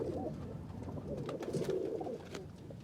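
Breeding pairs of domestic pigeons coo softly and continuously, a low, gentle, burbling sound at moderate distance, with no talk.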